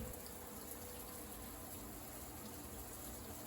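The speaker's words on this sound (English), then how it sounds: "So you can see some of those nozzles are spitting and sputtering" A weak shower head with nozzles clogged by mineral deposits sprays in a steady, faint hiss of water, unbroken for the few seconds and with no voices.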